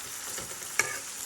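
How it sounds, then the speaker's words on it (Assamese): Mutton frying and being stirred in a pan for a papaya curry, a brief quiet sizzle with a single sharp scrape or clink of the spoon partway through. "মাংসখিনি ধুনীয়াকৈ ভাজি লওঁ"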